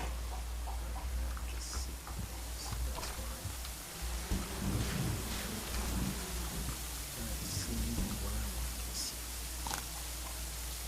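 Rain and rolling thunder from a storm in a cozy solarpunk building game, a steady loud wash of rainfall with low rumbles swelling in the middle, some faint speech-like sounds underneath.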